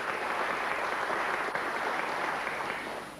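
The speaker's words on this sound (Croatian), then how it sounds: "Aplauzi." Studio audience on a TV quiz show applauding, a dense, steady wash of clapping heard alone at moderate level that gradually fades toward the end.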